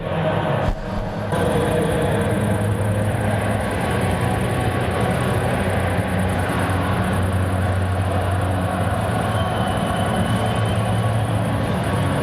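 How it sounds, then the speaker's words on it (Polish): A continuous, distant wall of roaring sound from a stadium concert at Warsaw's National Stadium, heard from outside, blurred and heavy in the low end, holding steady with no distinct notes or voices standing out. "no nie nazwałbym tego muzyką, jest po prostu taka fala dźwięku po prostu, taka nawet ściana dźwięku."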